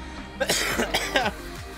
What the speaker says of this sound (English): I got sick and I couldn't stop coughing.